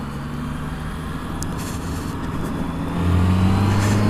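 A Honda CB650F motorcycle engine drones loudly and close in an unknown gear, holding a steady tone before the pitch and volume climb as it accelerates.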